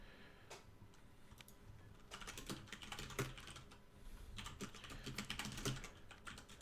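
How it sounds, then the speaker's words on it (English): Quick mechanical keyboard typing during a Magic: The Gathering semi-final match broadcast, sharp clicky keystrokes in irregular bursts, fairly faint and steady throughout with no talking. "There's that mechanical keyboard you're hearing on the chat"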